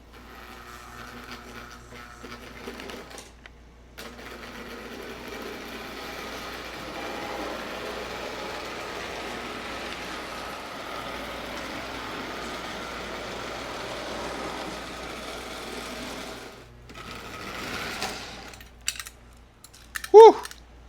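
A Lionel Scout model train engine, old, dirty and rusty inside, running with a steady low mechanical whir and rattle for most of the span, ending in a few sharp clicks and clunks.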